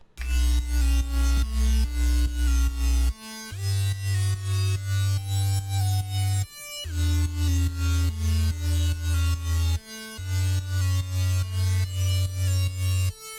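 A synth arpeggio preset from a kit, pitched and edited in Serum, plays alone in repeating bright note patterns over a heavy sustained bass, with short breaks between phrases.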